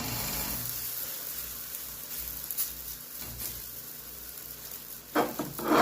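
Whole wheat msemen flatbread fries in a pan with a steady, close sizzle, then a sudden louder burst of crackling and scraping near the end.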